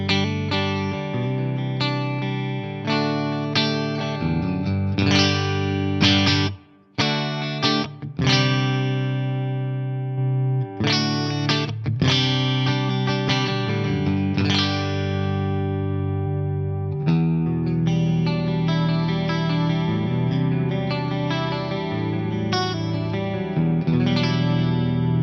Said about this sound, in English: Let's just hear the green mode on the Astro 20 with a little bit of EQ and reverb.